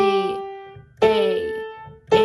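Three single piano notes from Beethoven's Ode to Joy, each struck clearly about a second apart and left to ring and decay, close and solo with no talking.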